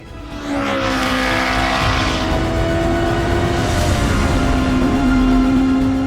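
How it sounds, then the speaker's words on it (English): A strained, high-revving 1300cc turbocharged race car engine roars steadily throughout, its pitch climbing and shifting as it works hard, loud and continuous, at Pikes Peak in 2020. "Listen in the distance for the sound of that tortured 1300cc turbocharged engine."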